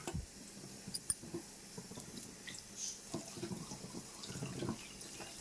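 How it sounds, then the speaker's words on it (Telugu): Water is poured into a container to soak dried moyya fish, a soft running trickle with a few faint clicks and splashes, quiet and close, with no talk. "ఇప్పుడు ఇందులో మనం వాటర్ పోద్దాం."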